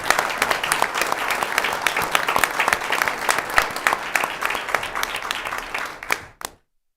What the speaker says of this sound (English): Let's give Doug just another round of applause.